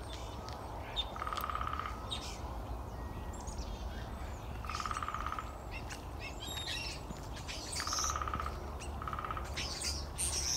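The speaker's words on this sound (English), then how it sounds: "I definitely hear a woodpecker" Starlings and a woodpecker call outdoors, giving repeated bursts of chirps and rattling calls at moderate distance over steady broadband background noise.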